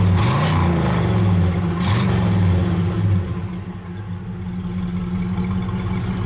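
A 1967 Pontiac Le Mans with its numbers-matching 326 V8 and four-barrel carburetor revs with a deep rumble, then settles into a smooth, steady idle, heard close and alone.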